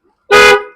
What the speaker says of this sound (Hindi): हमने इसमें जो क्रेटा टाइप का एक हॉर्न था